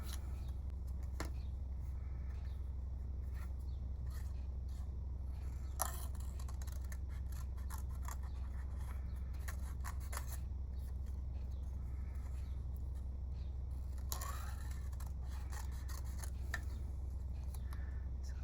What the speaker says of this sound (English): we're going to take this Lilly paper and we're going to go ahead and cut out some of these little lilies